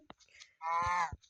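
A single drawn-out cow moo from Minecraft, a clean synthetic lowing call of about half a second, preceded and followed by a few faint clicks.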